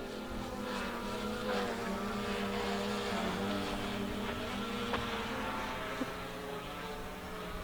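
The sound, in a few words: Hubsan Zino 2 drone flying overhead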